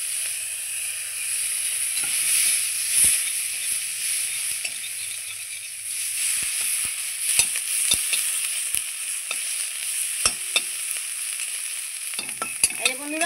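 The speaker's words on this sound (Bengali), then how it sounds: "পেঁয়াজ রসুন যে ভেজে নিয়েছি ওই তেলের মধ্যেই আমি চিংড়ি মাছের মাথাগুলো ছেড়ে দিচ্ছি" Prawn heads sizzle steadily in hot oil already cooked with onion and garlic, a bright continuous frying hiss punctuated by sharp clicks and spatters as they are stirred, with no voices.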